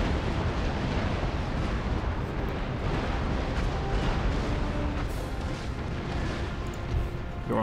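Ship cannons firing round shot in the naval battle game Empire Total War, heard as a dense, continuous rumble of overlapping booms and blasts, loud and sustained with no clear gaps.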